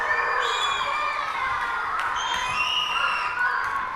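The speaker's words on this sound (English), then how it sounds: "Can we give them another round of applause" An audience at an elementary school play cheers loudly, with whoops and excited shouting over a steady roar of applause that holds throughout.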